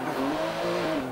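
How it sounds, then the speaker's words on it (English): A car engine in Forza 7 revs hard with tyres squealing, heard loud and close as a brief, steady, buzzing roar. "it's just revving the engine, like smoking the tyres, very Need for Speed"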